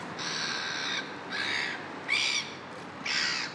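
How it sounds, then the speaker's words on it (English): Four loud, harsh seagull calls ring out close by outside a fish and chip shop in Sudbury, each a drawn-out squawk with short gaps between them. "That's the loudest fucking seagull honestly, in the world."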